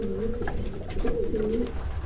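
Young pigeons cooing close by in soft, rolling low coos, two or three phrases in quick succession over a faint background.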